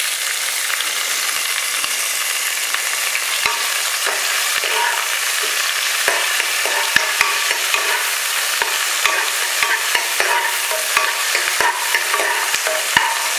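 Onions and tomatoes sizzle steadily in a hot pan for mutton kuzhambu, with frequent sharp clinks and scrapes of a spoon stirring against the metal.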